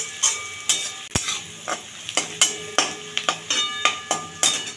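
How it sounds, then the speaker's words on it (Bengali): Sliced onions frying in a pan to make crisp birista for hilsa pulao, with a steady sizzle and a run of sharp, rhythmic stirring scrapes and taps, close and fairly loud. "এটাকে আমি ভালোভাবে বেরেস্তা বানিয়ে নেব।"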